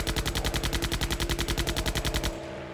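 Rapid, evenly spaced heavy gunfire in a long loud burst of about twenty shots, then an abrupt stop into a low lingering rumble, fitting defensive guns firing as fighter planes whiz past.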